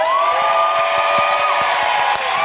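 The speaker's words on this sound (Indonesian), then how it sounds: "Tepuk tangan dong untuk Joseli." A game show studio audience breaks into steady applause and cheering for a contestant, a dense, even crowd sound running the whole time with scattered whoops and no talk over it.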